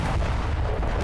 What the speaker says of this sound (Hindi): तभी एक जोरदार धमाका हुआ।